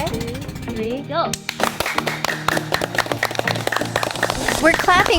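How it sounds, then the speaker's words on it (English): A group clapping in rhythmic sharp bursts on a boat at night to make fireflies light up in the Philippines, close and steady, with a voice counting in at the start. "We're clapping because the fireflies will respond to the noise by lighting up more"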